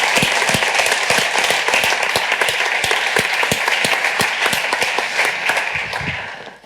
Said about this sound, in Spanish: pido un grandísimo aplauso para él